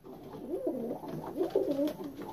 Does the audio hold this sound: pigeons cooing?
yes